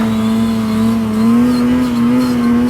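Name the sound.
Ski-Doo Summit Expert 850 Turbo snowmobile engine squealing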